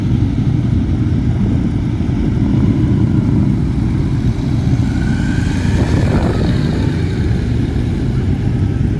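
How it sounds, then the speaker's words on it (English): A Kawasaki Vulcan and a Kawasaki ZX10 at a Perth Motorplex drag strip on ladies night: steady, loud engine rumble with no pause throughout, heard at a distance with no voices. "She's going to have a crack against Matt Kearney there on the ZX10."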